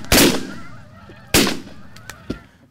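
Geese honk during a goose hunt, with two loud close bursts of honking about a second apart followed by a couple of shorter, fainter calls.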